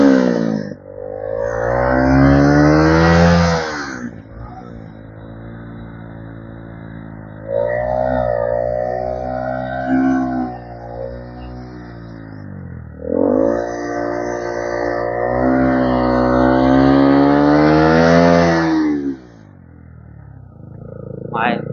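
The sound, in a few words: motorcycle engine revving on a mountain road ride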